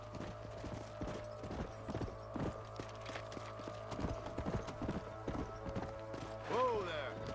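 Horses clip-clopping at a gallop across open ground in Red Dead Redemption, a steady rhythmic hoofbeat rolling on for several seconds, fairly quiet, with a whinny or short voice near the end.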